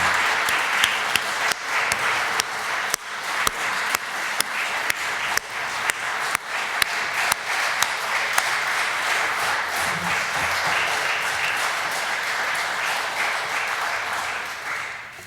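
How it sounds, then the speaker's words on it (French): A church audience applauds musicians after a Good Friday Passion recitative with cello, harpsichord and organ, steady dense clapping carrying on through the whole stretch, near and full, sharper individual claps popping early, no voices over it. "Et je vous propose de les applaudir."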